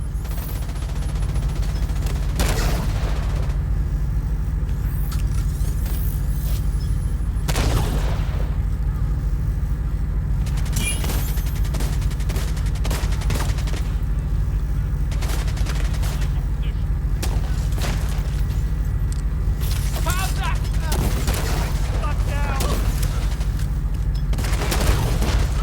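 Gunfire and mortar blasts in The Division 2, bursts of shooting and heavy booming impacts over a steady droning background, with a few sharp louder shots scattered through.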